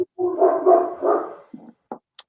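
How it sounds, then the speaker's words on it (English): A big year-old dog barks in a quick loud run of deep, overlapping barks, then a few shorter yips and clicks trail off, close by with no talk over it. "her dog is so big"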